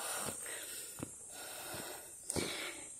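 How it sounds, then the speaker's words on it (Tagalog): Soft, heavy breaths puff out at uneven intervals, four or so, over faint background noise, from a person panting while walking uphill on a mountain. "Hinihingal ako, naririnig nyo ang hingal ko."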